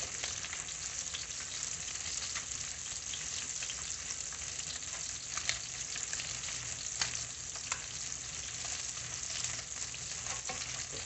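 Butter sizzles steadily in a pan with green beans, a soft, continuous frying hiss with scattered small pops, fairly faint and close, with no talking.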